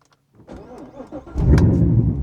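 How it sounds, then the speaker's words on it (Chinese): A Chevrolet Corvette V8 with a seven-speed manual gearbox starts up, the starter whirring briefly before the engine catches with a loud, deep roar and settles into a rumbling idle. "好，现在让我们来启动这个"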